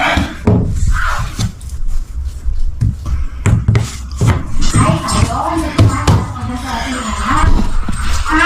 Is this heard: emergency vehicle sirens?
no